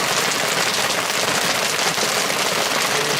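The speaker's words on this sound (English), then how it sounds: "but the rain sounded like this." Heavy rain pelts a tent on a bicycle camper at night, a loud, steady, dense hiss of drops drumming on the fabric with no letup and no voices.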